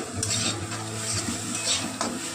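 Green chillies hiss and crackle in a hot pan as a spatula stirs them with a few soft scrapes and light knocks, close and fairly steady, with no talking.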